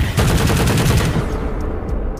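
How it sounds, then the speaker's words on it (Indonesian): Soldiers' gunfire in the film Space Sweepers, a loud rapid burst of automatic shots that breaks off after about a second, then fades into a rumbling tail. "para tentara luar angkasa kemudian memasuki ruangan dan menembak mati semua termasuk Dr."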